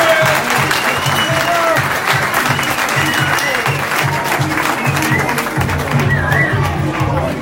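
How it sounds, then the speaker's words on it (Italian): Loud, sustained applause with cheering from a crowd at an award ceremony for the winners of a Barletta beauty contest, continuous throughout, with a few voices briefly rising over the clapping. "Un grandissimo applauso per una grandissima persona"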